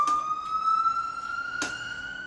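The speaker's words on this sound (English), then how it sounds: "Every day I hear this siren here." A steady siren drifts in from outside, a single held tone with bright overtones under the room sound of a home kitchen, with brief knocks from cooking.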